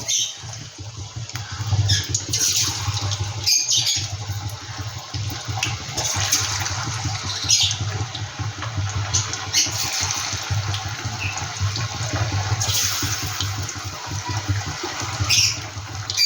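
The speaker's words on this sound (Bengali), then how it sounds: "আমি এক এক করে ভেজে নিচ্ছি বন্ধুরা।" Pieces of amudi fish fry in oil in a pan, giving a loud, continuous sizzling hiss that crackles unevenly and never stops, with no voices.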